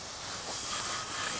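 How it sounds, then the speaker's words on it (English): A water hose sprays a boat trailer to rinse off hull cleaner, a steady, close, broad hiss of water jet without pause. "I'm just spraying my trailer off"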